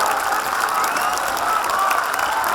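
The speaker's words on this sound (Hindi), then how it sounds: "सभी छात्र एक बार जोरदार तालियों के साथ इन तमाम ताना बाना ग्रुप की हौसला अफजाई करें" Students at a Kabir music performance applaud loudly in a continuous, even burst of clapping that fills the whole short stretch without pause.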